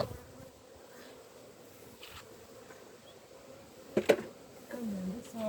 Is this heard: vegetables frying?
no